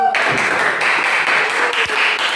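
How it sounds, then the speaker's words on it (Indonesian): A classroom group breaks into applause for the winning team, a dense burst of many hands clapping close by and sustained throughout. "Ambil tepuk tangan."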